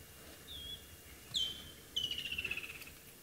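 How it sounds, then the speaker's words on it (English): A bird perched in a tree calls during a safari livestream, giving a few faint high whistles followed by a rapid chattering trill, heard at a distance over quiet outdoor background. "So we have a bird calling and we have some thunder rolling in."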